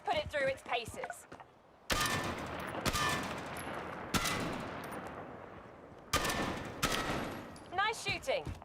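Gunfire from a new weapon in Warzone, sharp bursts of automatic fire in several loud close volleys separated by brief pauses, with voices speaking at the start and end.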